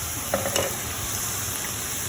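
Steady, even hiss of turkey for lettuce wraps sizzling in hot avocado oil in a frying pan, with a couple of faint soft clicks near the start.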